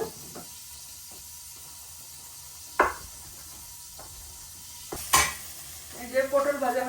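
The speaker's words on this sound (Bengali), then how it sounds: "আর এখানে একটু বেগুন বেগুনটি একটু আগে ভাজা নিব" Low, steady sizzling of eggplant frying in oil, with a few sharp clinks of a utensil against the pan and soft stirring scrapes near the end.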